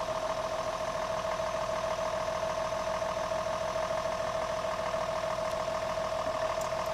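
A 2003 John Deere 6715 tractor engine runs at a steady idle with a constant mid-pitched hum and drone, close and unbroken throughout, with no talking.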